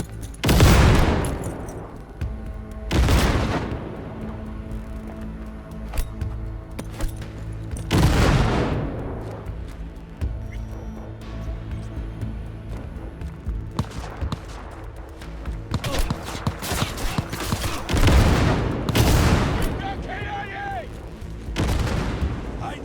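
Gunfire in a Cyberpunk 2077 firefight: loud, full-band blasts and bursts recurring every few seconds across the clip, with shorter pops between them, in a busy combat mix with voices.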